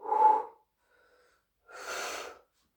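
Two heavy breaths out during a fitness workout, a sharp forceful exhale, a short pause, then a second longer, breathier one, close and loud.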